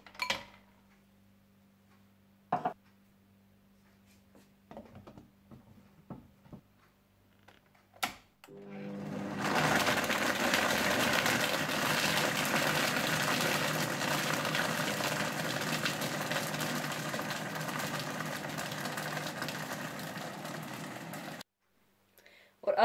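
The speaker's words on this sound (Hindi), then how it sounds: "ब्राउन शुगर, वनीला एसेंस और क्रश्ड आइस डालकर अच्छी तरह से ब्लेंड कर लें।" Blender whirring a mango shake with brown sugar, vanilla essence and crushed ice, starting after a few faint clicks and running as a loud, steady grinding roar for about twelve seconds before stopping.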